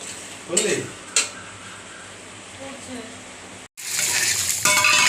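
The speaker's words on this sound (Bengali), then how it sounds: "মাছটা ভেজে নিচ্ছি।" Bhetki fish frying in a pan, a steady close sizzle broken by a brief pause, with a few clatters of utensils against the pan and no clear talk.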